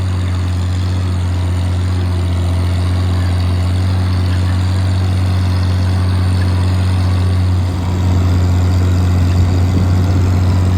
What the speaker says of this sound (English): Listen to the tractor purr.